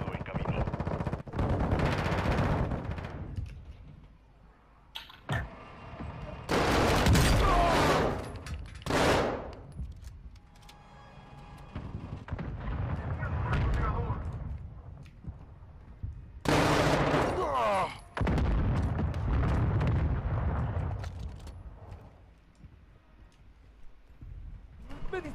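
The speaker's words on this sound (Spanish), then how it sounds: "ataque de mortero aliado en camino" Mortar shells and gunfire in Warzone 2, a battle royale match: loud broadband blasts and bursts of shooting recur through the clip, mixed with game sound and voice chatter.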